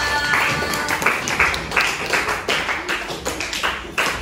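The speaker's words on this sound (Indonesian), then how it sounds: "Oke, beri aplaus dulu sama kelompok visual." A class of seventh-grade social studies students claps for a presenting group, a dense, steady patter of many hands lasting several seconds at moderate volume in an indoor classroom.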